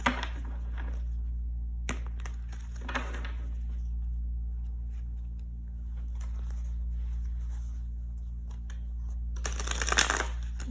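Tarot cards are riffled and shuffled in short papery bursts, one near the start and a louder flurry near the end, over a low steady hum.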